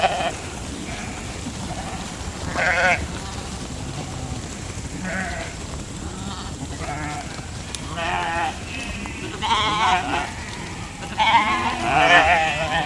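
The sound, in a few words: sheep moving through a fence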